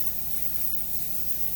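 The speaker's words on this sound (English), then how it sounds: "I'm just gonna spray it in there" Graphene coating is sprayed onto a car wheel in one continuous, close, steady hiss that holds without a break for the whole moment.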